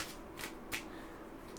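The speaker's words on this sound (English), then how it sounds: "I shuffle so many decks differently." A deck of oracle cards is shuffled up close in a quiet room, giving three quick papery riffling bursts with short pauses between them.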